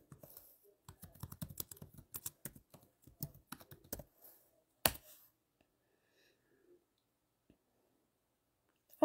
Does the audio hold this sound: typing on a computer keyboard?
yes